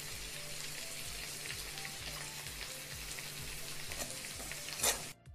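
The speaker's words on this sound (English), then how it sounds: "Saute well, let the raw smell go." Coriander and chili powder masala sizzles steadily in hot oil as it is sautéed, with a soft continuous frying hiss and light stirring scrapes near the end.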